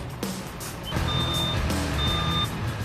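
Heavy crane trucks pull up at a snowy winter emergency scene, with the continuous rumble of large diesel engines and repeated high electronic reversing beeps cycling on and off, loud and close.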